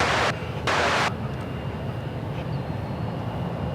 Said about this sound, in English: That's a Cessna 208 Caravan.